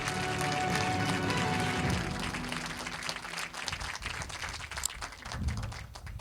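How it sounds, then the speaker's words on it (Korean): An audience claps at a naval decommissioning ceremony for South Korea's first submarine, the Jang Bogo, a dense, sustained round of applause that softens slightly over several seconds. "모두 큰 박수 부탁드립니다"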